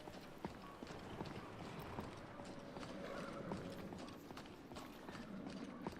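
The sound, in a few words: horse in video game Skyrim VR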